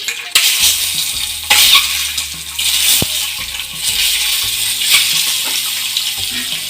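Sliced boiled eggs frying in a pan of green egg gravy, giving a steady soft sizzle with occasional light spoon scrapes and clinks, moderately close and with no talk.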